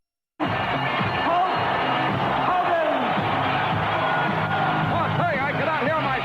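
A capacity crowd roars at a WWF wrestling match at Madison Square Garden for Hulk Hogan's title defense against Rowdy Roddy Piper, a loud continuous wall of cheering and whooping that bursts in and stays steady, with an announcer talking over it.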